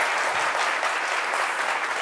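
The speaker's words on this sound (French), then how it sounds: "On l'applaudit pour l'accompagner." Steady, dense applause from a studio audience on a French-language midday television talk show set, sustained evenly for the full two seconds with no voices over it.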